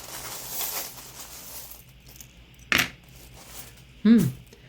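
Small metal charms and dice tossed for a divination reading make two brief, bright clattering hits a second or so apart, close by, with a faint voice earlier.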